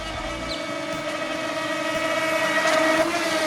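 Racing motorboats drone up close with a steady, slightly rising engine whine that holds for several seconds, and water wash hisses underneath.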